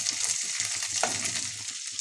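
Garlic, grated ginger and chopped green chili frying in oil in a pan, a steady close sizzle with light stirring scrapes, alone without talking.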